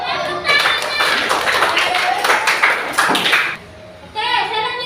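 A classroom audience breaks into lively clapping after a group's answer in a lesson, a loud, dense burst of many hands that stops abruptly, with children's voices and talk heard around it.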